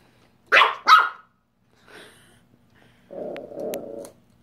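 A dog reacting to a vacuum cleaner lets out two sharp, close barks in quick succession, then a softer sound and a rougher, lower, growl-like stretch.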